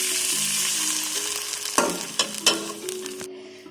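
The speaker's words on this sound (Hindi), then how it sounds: "प्याज फ्राई हो चुके हैं" Onions sizzle steadily in a hot pan, with a few sharp clatters of stirring before the frying cuts off abruptly.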